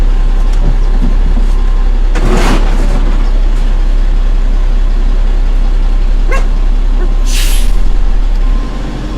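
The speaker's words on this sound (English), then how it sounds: "The trash truck is here. It's getting the trash." A garbage truck idles with a constant heavy engine rumble during trash pickup, letting out a few sharp air-brake hisses and bursts of clatter, one loud hiss near the end.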